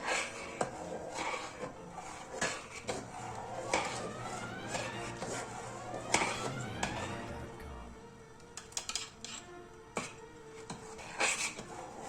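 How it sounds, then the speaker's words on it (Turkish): A spoon stirs starch into rice pudding in a cooking pot, producing close, irregular scrapes and metallic clinks against the pot with soft rubbing between them. "Şöyle katıyorum nişastamı karıştırıyorum"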